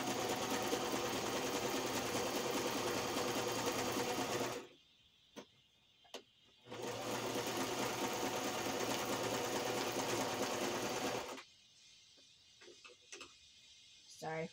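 A sewing machine stitches a zigzag in cream thread on a handmade birthday card, running in two long steady rattling bursts separated by a pause with small clicks, then stopping.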